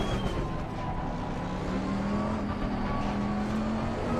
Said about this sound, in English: The Bentley's power unit has a bit of grunt